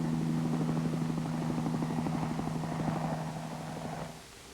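A steady, rhythmic helicopter rotor thumps on without a break, then fades away near the end.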